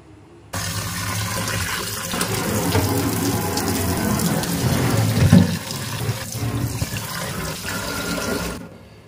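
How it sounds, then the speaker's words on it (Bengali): Running tap water splashing over chicken being washed in a sink, a loud continuous rushing stream that starts abruptly, churns with some irregular splashes, then cuts off. "এখানে চিকেন আছে, এটা ধুয়ে নিই।"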